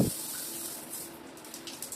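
Water from a newly replaced shower control valve runs steadily into a tub or basin during a leak test, a soft continuous hiss after a brief louder gush at the start, heard close and alone.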